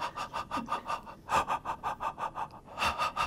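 Short harmonica notes pulsed by the diaphragm over holes 1 through 4, a steady run of about twenty evenly spaced bursts with brief gaps, fairly close and clear with no talking.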